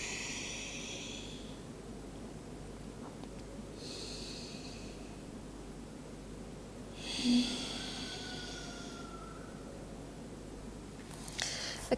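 Slow, deep breathing during a yoga session, three long airy inhales and exhales spaced several seconds apart, soft and hushed over a quiet, steady background hiss.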